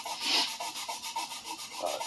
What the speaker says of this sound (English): The first pass of sanding with the coarsest grit usually takes the longest.